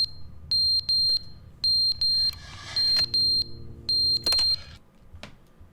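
Shrill paired electronic beeps from a fire alarm in the video game The Stanley Parable repeat in a steady rhythm, loud and close, with some brief background noise between pulses.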